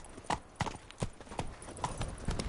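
Roach, a horse in The Witcher 3, galloping: rapid, evenly spaced hoofbeats pounding close and fairly loud, with no talking over them.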